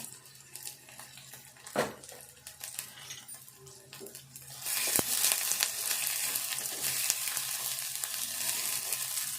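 Green chilies and ginger pieces frying in a pan: a low, quiet background at first, then a loud, dense sizzle that flares up suddenly and holds steady to the end.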